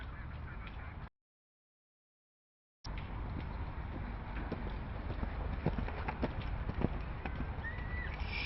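Horse cantering around a show-jumping course at a women's European championship, with broad steady arena noise, scattered hoof thuds and a brief gap of silence near the start.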